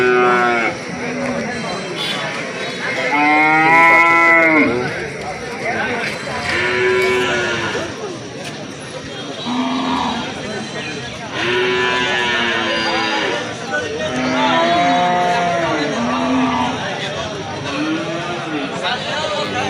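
Several loud, drawn-out cattle moos, one after another, over a busy background of voices and livestock noise at a crowded Eid cattle market.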